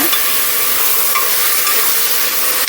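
Onions and tomatoes frying in a pan for pressure-cooker chicken biryani are stirred, giving a loud, steady sizzle with scraping stir sounds close up and no talking.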